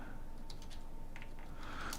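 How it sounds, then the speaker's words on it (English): Soft, quick keystrokes of typing on a computer keyboard, faint and close over a steady background hiss, with a few brief clusters of taps. "hold on, I'm typing a message"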